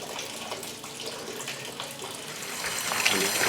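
Water flushing through the cooling system of a 1955 Buick Century with its drain plugs open, a steady splashing gush like a running tap, close and growing slightly louder toward the end, with no talk.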